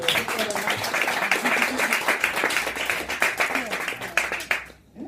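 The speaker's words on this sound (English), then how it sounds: "we'll give her a round of applause because she done really well" A comedy club audience claps and cheers for a woman in the crowd, a lively burst of clapping mixed with whoops and voices that runs for several seconds before cutting off abruptly.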